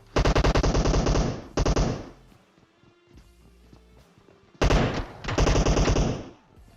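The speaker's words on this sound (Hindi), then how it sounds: "गोलियां कहाँ से चल रही है, कुछ पता ही नहीं लग पाता" Loud bursts of rapid automatic gunfire in PUBG Mobile, two long volleys separated by a quieter stretch with faint clanking, close and harsh.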